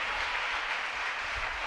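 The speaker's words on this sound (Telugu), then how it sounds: "గట్టిగా చప్పట్లు కొడుతూ దేవునామం అయిపోదాం." A church congregation claps hands loudly during worship, a dense, steady wash of many hands clapping together without pause.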